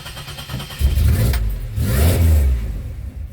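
A 2007 Pontiac Grand Prix GT engine starts and revs up in two surges before settling, close and loud, with a rough, choppy running note and no talking.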